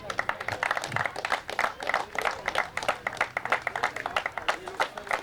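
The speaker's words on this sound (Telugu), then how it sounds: "క్లాప్స్ కొట్టాలి అందరూ." A crowd of players at a cricket T20 tournament award ceremony claps in a steady, fairly even patter of applause that carries on at moderate loudness.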